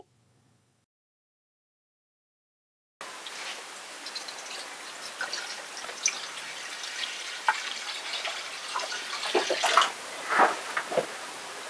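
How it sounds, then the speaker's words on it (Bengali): Water is poured into a large pot after a few seconds of silence, a continuous close splashing and gurgling stream that grows slightly fuller toward the end. "পেঁপেগুলো সিদ্ধ করার জন্য আমি একটা বড় পাত্র নিয়েছি আর দিয়ে দিব পরিমাণ মতো পানি।"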